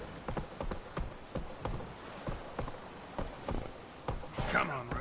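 Rhythmic hoofbeats of the horse Roach galloping in The Witcher 3, a brisk series of thudding clip-clops with some ambient noise and a faint voice near the end.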